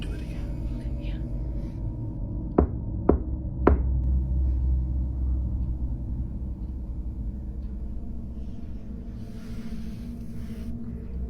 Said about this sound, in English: Do you hear the rhythm in the knock?